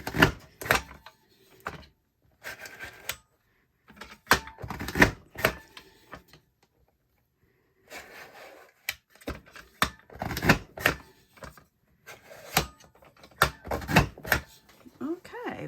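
A border punch alignment tool clicks in sharp, separate snaps as it is pressed through paper, the clicks coming in irregular bursts with quiet gaps between them.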